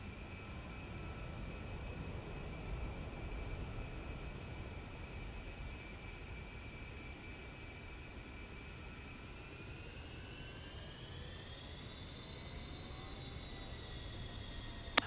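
A-10C jet aircraft in the DCS flight game, a steady turbine whine with a high tonal hum over broadband rushing noise, rising slightly in pitch toward the end, with no speech.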